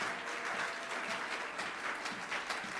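A church congregation applauds during a Sunday service, a dense, steady wash of clapping that holds at an even level throughout.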